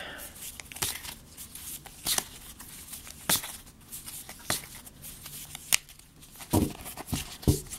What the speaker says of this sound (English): I'm going to draw our work card.